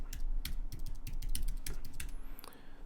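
Rapid clicking keystrokes on a computer keyboard as a terminal command is typed, a quick irregular run of close, light taps that ends in a brief pause.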